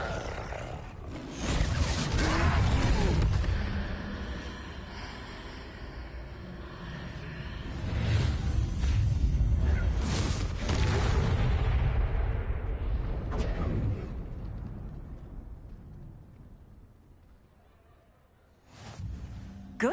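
The Confringo blasting spell in Hogwarts Legacy, heard as loud booming blasts with a roaring rumble, several heavy bursts that swell and decay amid battle noise against a troll, then fading before a final hit.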